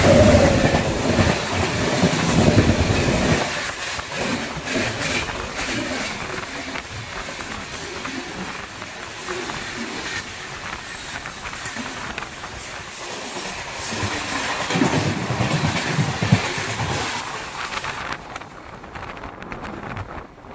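The Seemanchal Express rushes past on the rails, a loud rumbling roar with rhythmic wheel clatter and wind buffeting the microphone, swelling again near the end before cutting off abruptly.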